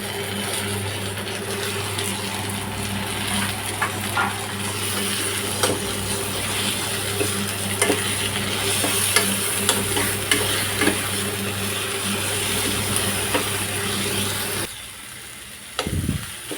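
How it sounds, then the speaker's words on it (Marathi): Onion and tomato with coriander stalks roasting in a pan for misal pav, a steady continuous sizzle with light stirring scrapes throughout, fairly close, then dropping away near the end. "आपला कांदा आणि टोमॅटो भाजून झाला आहे"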